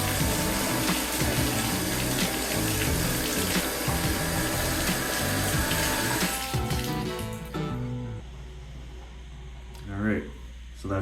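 Water gushes from a newly installed replacement bathtub spout, a loud and steady close rush that eases somewhat near the end.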